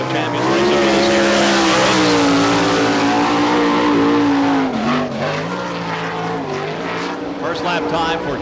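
A sprint car races alone on a dirt track during All Star Circuit of Champions Florida Speedweek at Barberville, its loud engine roaring and rising in pitch, then easing and revving again as it passes nearby.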